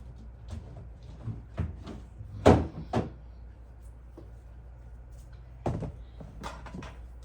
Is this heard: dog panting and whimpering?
no